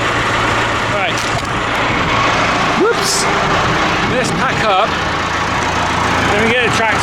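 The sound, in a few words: tractor engine running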